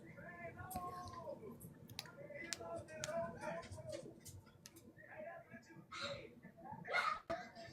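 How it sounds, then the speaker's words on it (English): Someone types a name on a computer keyboard during a live stream, producing quick, irregular light clicks and taps heard close by amid talking and background voices. "Let me type your name in."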